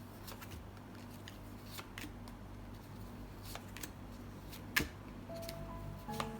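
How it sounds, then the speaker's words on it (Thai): Tarot cards are shuffled and laid out on a surface, soft riffling and flicking with scattered light taps and one sharper slap, quiet and close with a low background hum. "เปิดไพ่คุณทั้งหมด5ใบนะคะ"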